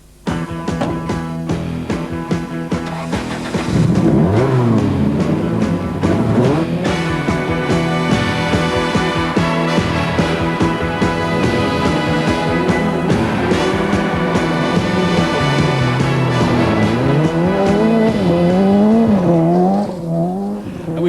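A 2-litre, 210-horsepower rally car is driven hard, its engine revving and wailing loudly for the whole stretch, with repeated rising and falling pitch sweeps and tires squealing through corners, with no talking.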